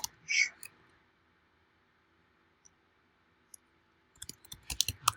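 Keystrokes on a computer keyboard click faintly, with a brief burst at the start and then a quick run of light taps near the end after a quiet stretch.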